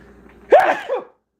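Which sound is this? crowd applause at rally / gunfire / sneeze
sneeze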